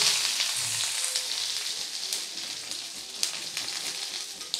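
Dried red chilies and onion frying in a pan for a masala dosa filling make a steady, close sizzle with scattered crackles and pops throughout, with no talking.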